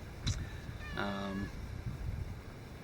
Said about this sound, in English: Our cat has joined us, if you hear the mewing